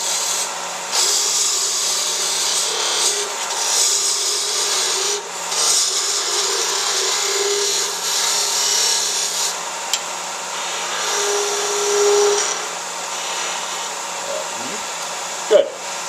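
Skew chisel cutting a wooden knitting needle on a lathe, a steady whirring hiss of the spinning work with scraping cuts that rise and fall in bursts, a brief sharp knock near the end.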